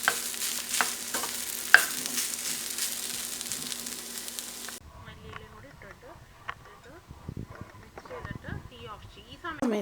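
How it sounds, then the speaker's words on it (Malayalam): Stirring of a mashed potato mixture for a vegetable snack, with scraping, clattering strokes in the second half after a noisier opening with a steady hum and clicks. "ഇതിലേക്ക് നമ്മൾ പൊടിച്ച് വെച്ച പൊട്ടാറ്റോ ഇല്ലേ അതിട്ട് കൊടുക്കുക. നന്നായി മിക്സ് ചെയ്ത് കൊടുക്കുക."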